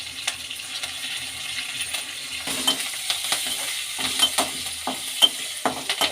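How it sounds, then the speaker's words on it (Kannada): Garlic, curry leaves and byadgi chillies frying in a pan, with a steady close sizzle broken by repeated sharp clinks and scrapes of a utensil stirring against the metal. "ಫ್ರೈ ಮಾಡ್ಕೊಳ್ಳೋಣ ಚೆನ್ನಾಗಿ ಮಳ್ತಿದೆ"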